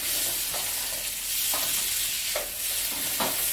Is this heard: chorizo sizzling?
yes